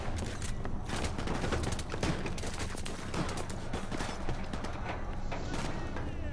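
Rapid gunfire in a Call of Duty Modern Warfare Remastered firefight, with dense overlapping bursts of automatic weapons and shots cracking continuously and loudly throughout, under faint game voices.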